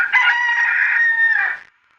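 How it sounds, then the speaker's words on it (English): A rooster crows once in a single drawn-out, loud call of about a second and a half, from a cartoon about animal sounds, clear and alone without talk. "And a rooster."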